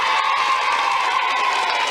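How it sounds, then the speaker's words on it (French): Studio audience at a French children's TV show applauding and cheering, a dense continuous wash of clapping and crowd noise, loud and steady with no gaps. "on peut encore les applaudir"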